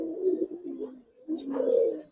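Original Herikel pigeons coo nearby in a couple of clear, throaty rolling bursts with a short pause between, fairly loud against a quiet background.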